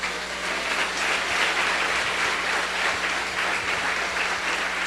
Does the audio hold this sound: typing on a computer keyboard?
no